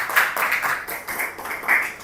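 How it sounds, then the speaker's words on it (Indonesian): A crowd applauds a presenting group at a teacher-training session, with steady, moderately loud clapping and a few brighter swells across two seconds. "Beri aplaus dulu buat kelompok"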